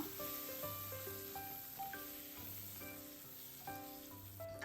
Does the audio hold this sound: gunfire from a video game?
no